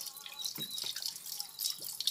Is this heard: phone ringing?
no